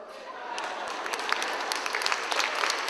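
Clapping from a conference audience at a Caribbean gathering, a broad, steady wash of applause growing slightly louder, with a speaking voice partly mixed in beneath it.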